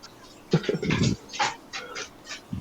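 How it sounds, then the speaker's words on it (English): A pet dog whimpering and whining to be let outside, several short close-up bursts of high, plaintive vocalizing in a quiet room. "My dog wants to go outside."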